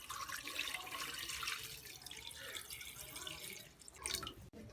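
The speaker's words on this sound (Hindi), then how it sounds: "और अब हम डाल देंगे इसमें 1 लीटर पानी।" Water is poured steadily into a pot of chicken corn soup seasoned with salt, a continuous splashing, dripping pour that runs close and fairly loud before tapering off.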